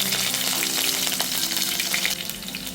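Green chillies sizzle and fry steadily in hot coconut oil with popped mustard seeds, a loud continuous crackle with no voices, cooking the base for a prawn curry.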